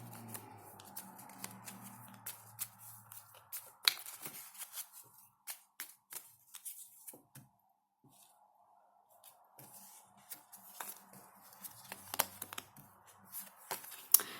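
Soft, scattered clicks and slaps of tarot cards being laid out in columns one by one, with quiet rustling and a brief pause in the middle.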